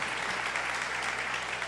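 Dense, steady applause from a church congregation during a sermon, filling the space evenly throughout with no pause.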